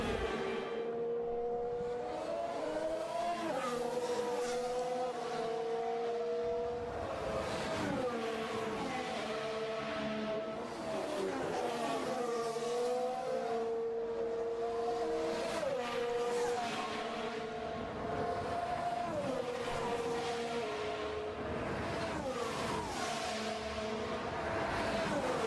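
A Formula 1 car in practice at the 2021 Saudi Grand Prix screams past repeatedly, its engine pitch climbing and dropping in quick stepped gear shifts as it brakes, moderately distant and continuous throughout.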